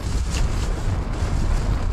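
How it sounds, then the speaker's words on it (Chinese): Strong wind buffets a roadside campsite beside a national highway, with a low, rumbling, gusting roar and microphone buffeting pressing steadily throughout. "也不知道这2天会刮这么大风"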